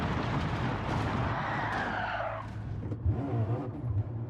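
In the racing game Gran Turismo 7, a car oversteers into a loud skid as a rising tyre screech sweeps over the steady engine roar, then fades as the engine note settles, with no talking.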